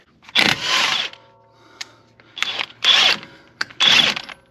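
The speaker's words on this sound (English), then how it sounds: "I need to loosen this axle nut bolt doohickey here, which I believe is a 27 millimeter." A wrench or ratchet works on the 27 mm axle nut of a Volkswagen Eos during a CV axle job. Several loud, close metallic bursts of clicking and scraping come in separate spurts, with brief quiet gaps between them.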